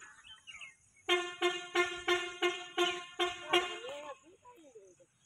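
A vehicle horn blares in a rapid series of about eight loud, evenly spaced honks on a busy road, with quieter chirps before and after.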